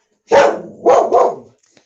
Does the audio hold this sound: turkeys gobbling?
no